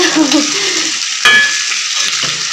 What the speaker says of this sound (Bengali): এবার দেখো ভেজে রাখা আলুগুলো দিয়ে দেবো